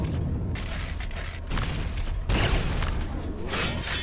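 Rapid weapon fire in the arena shooter Quake 3: dense, booming shots in quick succession with heavy low rumble, loud and close, with no talking.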